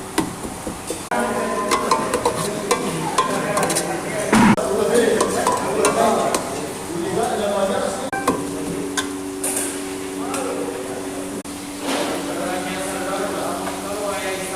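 Mutton paya frying in a home kitchen, a steady sizzle with stirring clatter running through the whole stretch, sitting under and alongside people talking.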